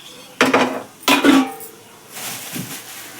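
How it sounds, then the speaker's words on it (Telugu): Leftover rice being mixed into fried rice in a pan: two loud metal clanks of spoon against pan, then softer rustling and scraping, heard up close with no voices. "ఫ్రైడ్ రైస్ అయితే కలిపేస్తున్నాను"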